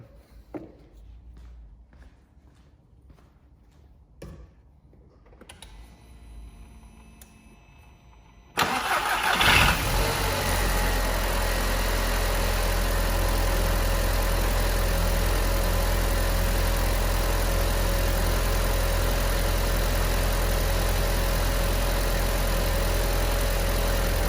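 An Audi TT 1.8T engine with 229,000 miles cranks and catches after a few quiet clicks and rattles, then settles into a loud, steady idle that continues to the end.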